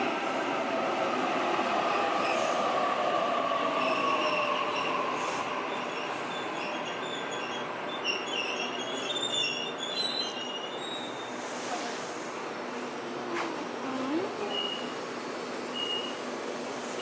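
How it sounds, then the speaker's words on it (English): A train pulls into a station with a long, high steady squeal of wheels on rails over a broad rumble, fairly distant and moderately loud, fading slightly toward the end. "5 minutes the train will be here coming from that direction."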